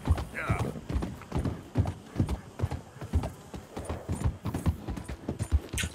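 Horse hooves clip-clop in Red Dead Redemption 2, a steady rhythmic trot of distinct thuds close by, with a brief whinny-like sound early on.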